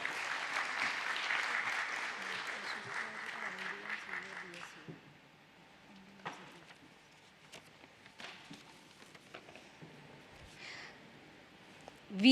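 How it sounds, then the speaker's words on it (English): An audience at a company stock-exchange listing ceremony claps in dense applause for several seconds, then it fades to scattered claps and quiet room noise. "Claps, everyone, please."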